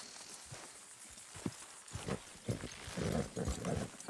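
Horse hooves in Red Dead Redemption 2, irregular clopping and stamping close up at low level, with snorting animal noise mixed in.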